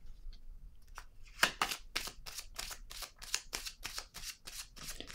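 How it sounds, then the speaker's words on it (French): Tarot cards being handled and shuffled close up: a rapid series of crisp flicking slaps, about a dozen evenly paced riffs, with no voices. "Je vais déposer une carte sur la récompense."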